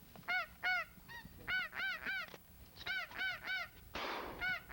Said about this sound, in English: Man, you got geese everywhere.